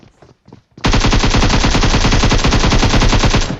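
Groza assault rifle firing in PUBG Mobile, a loud sustained burst of rapid automatic gunfire starting abruptly after a couple of quieter thumps and continuing steadily to the end.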